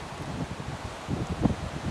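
Hurricane Ian's wind gusts through a backyard and rustles leaves in a steady, moderately loud whoosh, with a few sharper crackling surges.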